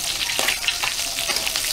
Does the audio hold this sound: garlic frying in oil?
yes